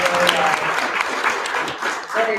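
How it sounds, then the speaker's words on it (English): Applause for a speaker at a Boston cannabis industry conference, a dense wash of clapping that fills the short clip, with voices and tonal chatter audible beneath it. "Let's all give Ann a really big round of applause"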